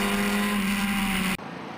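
A vintage MG Midget racing at Grattan Raceway, a steady engine drone with a constant tone holding for over a second before cutting out sharply to quiet.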